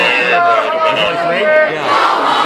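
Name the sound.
protesting crowd on a college campus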